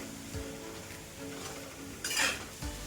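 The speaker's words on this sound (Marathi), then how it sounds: "आता आपण इथं चवीपुरतं मीठ टाकून घेऊया आणि थोडीशी कोथंबीर मिक्स करूया" Hummingbird flower vegetable dish in a pan being mixed with salt and coriander, a quiet sizzle with a few spatula scrapes and a brief clink of metal against the pan, close by.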